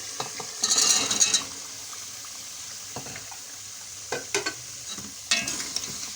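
Potato and carrot pieces stir-fried in spiced masala, with a burst of sizzling as they hit the pan, then scattered spatula scrapes and clinks over a faint hiss, close and unaccompanied by voices.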